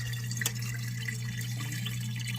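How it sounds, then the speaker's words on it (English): Water drains steadily from a KitchenAid KDFE104HPS0 dishwasher with a foamy vinegar-and-soap rinse, giving a constant close gurgling hiss over a low motor hum. "Yes, water coming into the drain,"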